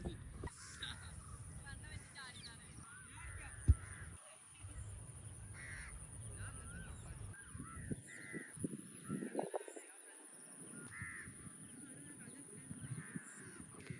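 Crows caw repeatedly at a moderate distance over paddy fields in the evening, their harsh calls coming in scattered bursts over a soft, breezy outdoor background.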